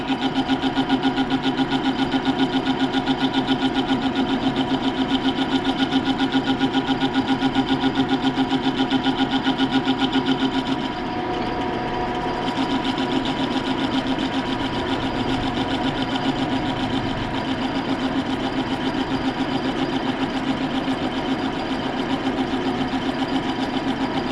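A machine cutting gear teeth on a K&T clutch shaft gives a loud, steady mechanical drone with a constant whirring tone. It eases slightly about halfway through, then carries on evenly, with no talking.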